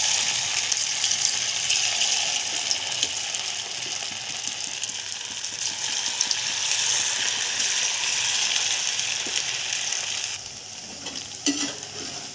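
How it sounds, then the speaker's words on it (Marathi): Small sabudana fasting pakodas fry in hot oil with a steady, dense sizzle and crackle that carries on without a break, joined by faint scraping stirs and a few clicks near the end, with no talking. "तेल तापलेलं आहे. आता आपण एक एक पकोडा तळायचा आहे,"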